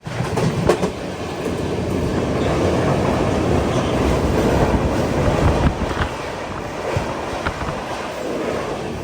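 An express train from Kochuveli to Rishikesh runs near Paravur, heard from inside a 3AC economy coach as a constant loud rumble with clickety-clack rail beats and wind noise throughout.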